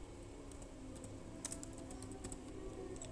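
Faint keyboard typing while writing code, scattered clicky keystrokes in short clusters over a steady low room hum.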